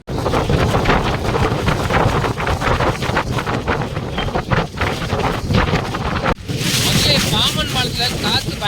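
Strong gale-force wind buffets the microphone on the Pamban bridge, a loud roaring rumble with gusting surges and a brief drop before it returns with harsh hissing.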